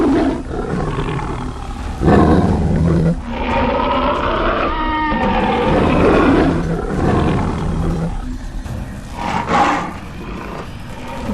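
An old Asiatic lioness from the Gir forest region on the Shetrunji riverbank in Amreli, Gujarat, roars loudly and close. Several deep, rumbling roars and grunts follow one another across the stretch.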